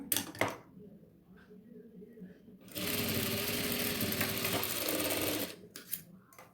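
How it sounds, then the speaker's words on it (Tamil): A sewing machine stitches lace onto the neckline of a nighty, running in a loud, steady mechanical whir for about three seconds between quieter handling clicks and short starts. "நம்ம லேஸை வச்சு ஸ்டிச் பண்ணியாச்சு."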